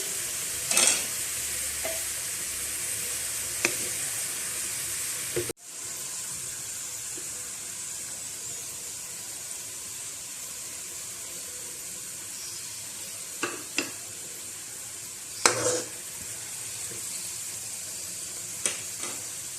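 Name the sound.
onions frying and being stirred in a pot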